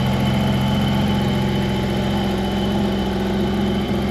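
A car engine idles nearby, running smoothly with a steady, continuous low rumble and faint vibration throughout. No one speaks over it.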